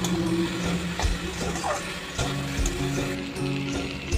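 Taro stolons and shrimp frying in oil with turmeric, salt and chilli powder, giving a steady close crackling sizzle throughout, with occasional soft knocks of stirring.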